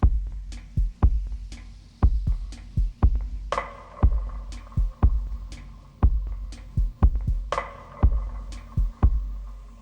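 A dub techno loop of deep, thumping kicks in a steady pulse, with off-beat reggae-style chops and hazy dub textures, loud and continuous with no voices.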